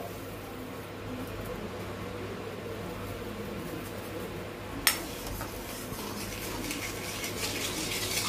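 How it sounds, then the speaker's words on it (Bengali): A spoon stirs sugar and water into syrup in a pot for malpua, soft scraping over a steady low background hum, with one sharp clink of metal partway through. "এভাবে নাড়তে হবে, নাড়লে কিন্তু চিনিটা গলে যাবে।"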